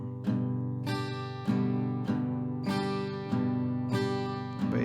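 A single chord on an acoustic guitar is strummed at a slow tempo in a bass-bass-top pattern, each full, ringing strum decaying before the next in an even, unaccompanied rhythm.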